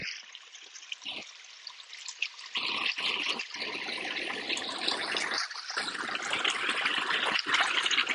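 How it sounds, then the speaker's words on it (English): Water runs over the top of fallen rocks in a mountain gully, a steady broadband rush and trickle that swells after a few seconds and continues close and fairly loud, with a few brief dropouts and no voices. "Now there's water running over the top."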